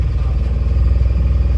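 Car pulling away from a wedding hall on the trip home, a steady low engine rumble with slight clattering, close and continuous.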